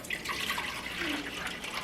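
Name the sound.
water being poured into slow cooker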